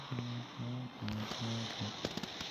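Rocket spells blasting in the mobile game Clash Royale, a few sharp bursts landing over a steady, tuneful game-music loop.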